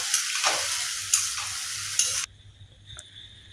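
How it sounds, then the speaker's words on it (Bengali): Ground spice paste sautéing in a pan for katla fish head curry over low to medium flame, a loud hissing sizzle with stirring scrapes that suddenly drops away, leaving a quiet hum and a faint click. "মশলাটাকে কষিয়ে নেব।"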